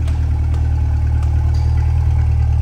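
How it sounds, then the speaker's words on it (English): A rapid blue 2023 Corvette convertible 2LT idles steadily and close by, its exhaust giving a deep, even rumble with light clatter on top and no break in the sound. "listen to the exhaust idling here."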